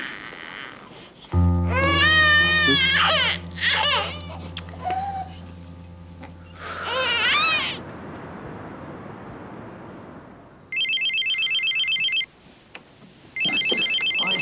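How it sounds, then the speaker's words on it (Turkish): A loud electronic telephone ringtone chirps in two bursts near the end, following a cat's drawn-out meows and yowls. "telefon çalıyor"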